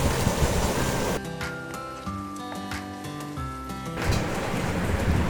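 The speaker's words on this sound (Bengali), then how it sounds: "এখন সবজিগুলো ভালো করে নেড়ে চেড়ে সুন্দর করে হালকা করে ভাজতে হবে।" Mixed vegetables for a Bengali bhaji sizzling in a pan, loud hissing frying that dips while some music plays, then swells again near the end.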